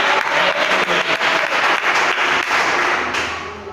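A church congregation claps during a service, loud rhythmic applause with distinct hand claps that gradually fades out near the end.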